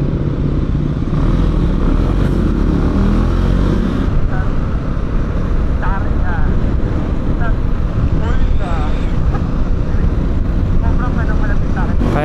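A Husqvarna Vitpilen 401, a light 400cc motorcycle, is ridden with its engine droning loud and close under heavy wind rush, and a rider's voice speaks intermittently over the noise.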